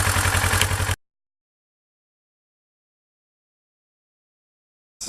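A motorcycle engine idles with a steady, rapid low pulsing for about a second before cutting to silence, then briefly returns at the very end.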